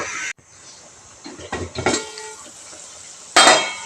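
A lid clanks onto a cooking pot of beef sinigang, a sharp metallic clatter at the start followed by softer knocks and a final ringing clang near the end.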